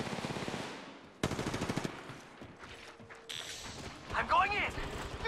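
Bursts of automatic weapon fire in Apex Legends Mobile, a rapid rattling volley followed by a second loud burst, with gaps and other game effects between, while a voice speaks over part of it.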